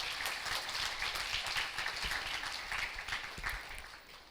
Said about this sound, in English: Let us all welcome her with a huge round of applause